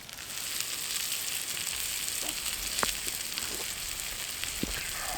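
Steady close sizzle of potatoes and onions frying in a cast iron pan at an outdoor camp, continuous hiss with a few faint pops and no talking.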